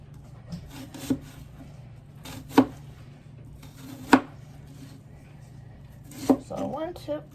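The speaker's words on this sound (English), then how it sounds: "one tip that I have that I learned for cutting onions is that I probably need a bigger cutting board" A new, very sharp knife chops onions on a small cutting board. Scattered crisp knocks land at irregular intervals over a quiet background hum, close by, with a short run of quick cuts near the end.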